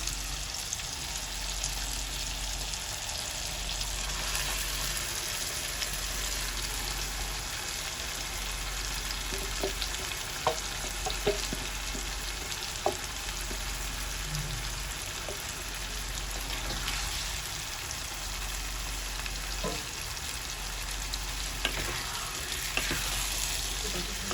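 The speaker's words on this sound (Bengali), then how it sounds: "এবার এর মধ্যে আমি এই ম্যারিনেট করা খাসির মাংসটা দিয়ে দিচ্ছি।" Marinated goat meat fries in a pan with a loud, continuous close-up sizzle and hiss, dotted with a few faint pops and light clicks throughout.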